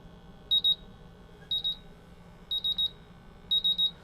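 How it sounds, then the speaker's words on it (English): A MultiRAE gas detector sounds its buzzer alarm during a PID sensor bump test with isobutylene gas: four evenly spaced groups of shrill, rapid electronic beeps, loud and close, with no talk. "I can feel the vibration alarm, I can hear the buzzer, and I can see the LED lights flashing."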